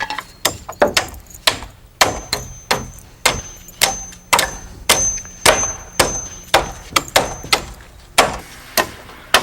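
A hammer drives nails through overlapping wooden purlin pieces laid across roof rafters, making loud, sharp strikes in quick bursts of several blows separated by short pauses, with no talk over them.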